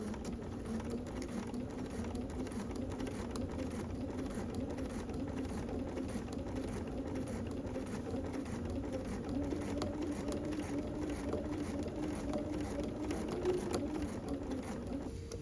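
Sewing machine running a straight top stitch at zero width and 2.5 length along a fabric edge, a steady continuous whirring drone heard close and unbroken throughout.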